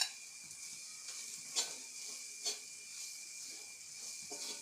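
Beef with spices sizzling in a pan for Kerala-style beef cutlets, a faint, steady hiss with a few soft stirring scrapes and bumps and no talk.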